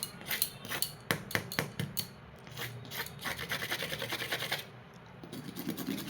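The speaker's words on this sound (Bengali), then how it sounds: "তো আওয়াজ শুনে বুঝতেই পারছো কেমন খাস্তা ও মুচমুচে হয়েছে।" Crisp fried potato kachori is broken apart by hand, producing a string of sharp crunchy cracks followed by quieter, steady crumbling and rubbing, close and alone.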